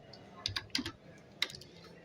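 A handful of quick computer keyboard keystrokes enter a Django command, a few close, crisp clicks in a short irregular burst with quiet gaps between them.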